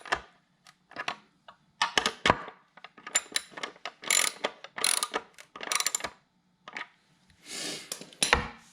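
A size 10 socket on a ratchet wrench tightens bolts on a fiberglass fairing bracket, giving close, irregular bursts of rapid clicking with brief pauses and occasional metallic knocks, without talk.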